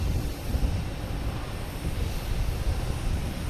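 Steady broadband roar of an American Airlines Embraer E175 jet at Boston Logan Airport, a constant moderate engine rumble heard from a distance, with no voices.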